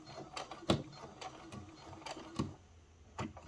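A sewing machine back-stitches a seam in short mechanical bursts, with faint clicking and whirring and several distinct knocks spaced irregularly against a quiet background.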